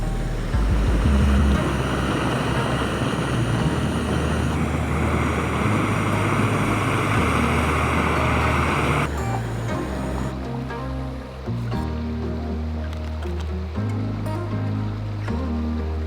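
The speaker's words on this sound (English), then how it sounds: "listening to the sound of the rapids" River rapids rushing past a riverbank, a loud continuous roar of turbulent water with deep low rumbling and some wind buffeting on the microphone.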